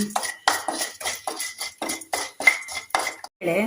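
Urad dal frying in a pan for Udupi-style mango menasukai, heard as a series of sharp metallic clinks and scrapes from a spoon against the pan, repeated roughly every half second, close and fairly loud with no talking.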